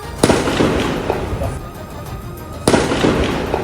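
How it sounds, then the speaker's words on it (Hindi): Two loud, sharp reports of gunfire ring out during a clash at the Jenin refugee camp, each a sudden crack followed by rough, echoing noise, spaced a couple of seconds apart. "इसी दौरान वहां से गोली चलने की तेज आवाज भी आई"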